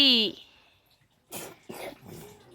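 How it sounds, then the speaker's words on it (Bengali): A young boy coughs: a brief voiced whine, a pause, then three short, harsh cough bursts close by. "এটা আমার ছোট পাখির কি কাশি হয়েছে"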